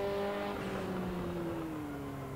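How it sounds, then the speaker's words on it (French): A Ferrari racing car engine in Assetto Corsa drones steadily at high revs, a buzzing tone that slowly drops in pitch, fairly quiet and continuous. "Je trouve qu'ici la voiture a un son très très agréable."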